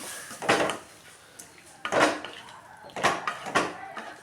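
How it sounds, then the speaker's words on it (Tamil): A spoon scrapes and knocks against a pan while soaked citron pickle is stirred with the stove off, giving four or five distinct close scraping strokes separated by quieter pauses. "கொட்டி நல்லா கிளறிக்கலாம்"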